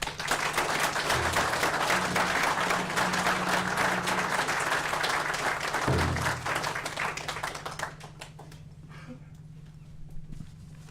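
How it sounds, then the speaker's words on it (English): Audience applause at a police badge ceremony for the Nishnawbe Aski Police Service, a dense, sustained round of clapping filling the hall for about eight seconds before thinning out and fading to sparse claps. "So big round of applause."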